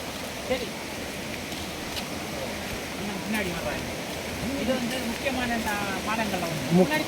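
Steady rushing water of Thirparappu waterfall fills the clip, a broad continuous roar, with faint voices here and there beneath it.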